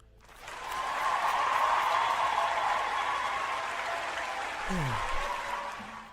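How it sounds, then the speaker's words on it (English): Audience applause swells quickly and holds as a broad, moderately loud wash of clapping, with a faint voice surfacing briefly near the end. "Having a round of applause."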